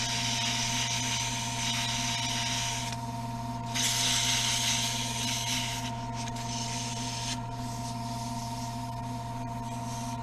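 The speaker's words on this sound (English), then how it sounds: "I want to be very careful when I'm sanding close to that shoulder" Wood being hand-sanded with sandpaper near the shoulder of a door stop: continuous scratchy rasping strokes that swell and fade over a steady mechanical hum, with no talking.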